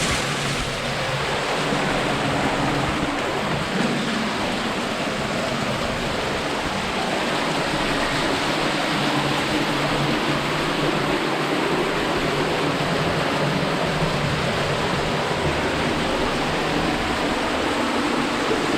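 Water rushing and splashing in a flooded rocky tunnel, a steady broadband wash that fills the whole stretch at constant loudness, with no voices.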